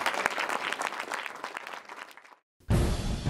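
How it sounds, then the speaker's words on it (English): An audience applauds finalists at the UK Rubik's Cube Championship 2016 3x3 final, with dense, steady clapping for over two seconds before it cuts off abruptly into silence, then a different noise follows. "Big round of applause for our first two foreign competitors"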